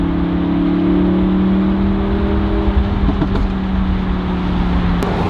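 Audi R8 V10 Plus with an Avior straight pipe exhaust, a deep steady engine drone with a slight swell partway through, close and continuous with no talk.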